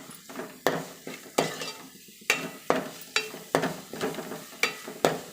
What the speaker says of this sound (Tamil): இப்போ தயிர் ஆட் பண்ணி ஒரு 2 நிமிஷம் வதக்கிக்கலாம்.